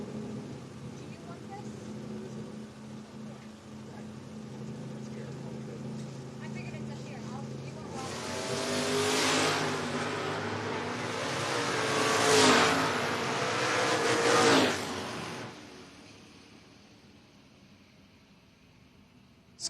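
A 1979 Dodge Aspen wagon and a 1986 Camaro race at a drag strip, engines building from a low rumble to a loud roaring run that peaks and fades, under an announcer's talk.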